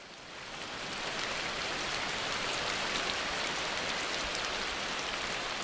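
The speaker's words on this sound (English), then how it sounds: "For many animals, the daily downpours of the rainy season provide a welcome break from the stifling heat of the dry months." A heavy Amazon rainforest downpour hisses steadily and loudly, a dense wash of raindrops on foliage that swells in over the first second and then holds constant with no voices.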